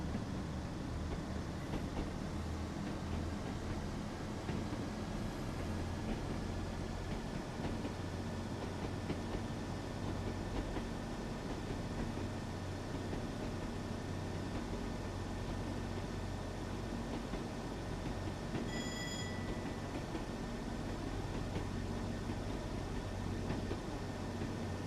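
A Class 101 diesel multiple unit runs on the Tees Valley Line in Train Sim World 6, with a steady engine drone and a continuous rumble of wheels on rail. A faint high tonal whine stays in the background throughout, with no speech.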